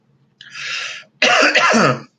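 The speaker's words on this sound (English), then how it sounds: "Hopefully that cough doesn't mean anything" A breathy intake followed by a harsh, rough cough burst, close and fairly loud, with no talking.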